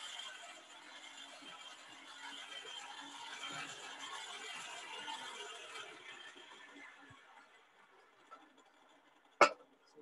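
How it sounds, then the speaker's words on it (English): A blacksmith's forge fan runs at a historic park demonstration, giving a steady, rattling mechanical whir that fades out after about six seconds. A single sharp metallic clank follows near the end. "You guys want to see this fan he has going."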